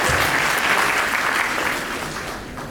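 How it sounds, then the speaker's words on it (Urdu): A seminar audience at an eCommerce presentation in Sialkot bursts into steady, dense applause, loud and continuous throughout before easing slightly toward the end. "آپ سب اپنے لیے تالیاں بجا رہے ہیں"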